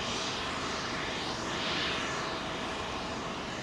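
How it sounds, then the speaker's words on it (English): An all-white Emirates Boeing 777 jet at Heathrow on runway 27L roars loudly and continuously nearby, with a broad, rushing engine noise that swells slightly in the middle. "There's that Emirates 777."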